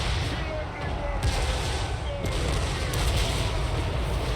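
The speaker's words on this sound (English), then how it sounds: "All 4 cannons firing at it." Four cannons in Warhammer 3 fire on a barricade in a battle, giving repeated booming impacts over a dense, rumbling low-end battle din, moderately loud throughout.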